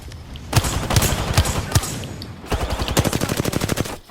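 Rapid automatic gunfire in the Apex Legends video game: a few spaced heavy shots, then a dense rattling burst of close, loud bursts toward the end.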